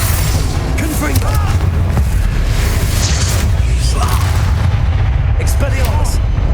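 Incendio and Confringo spell blasts in Hogwarts Legacy on PS5 during San Bakar's Trial, a dense run of booming, crackling magical impacts over low rumble, with a voice calling out spells.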